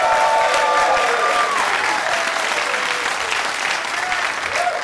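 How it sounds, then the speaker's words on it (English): A studio audience at a dating game show applauds, producing a sustained, loud wash of clapping from many hands that continues steadily throughout. "Give them a round of applause."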